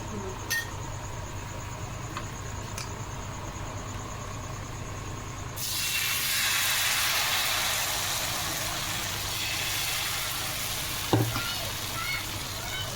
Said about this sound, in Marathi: आता माझा तवा तापलेला आहे आणि मी तेल घालणार आहे.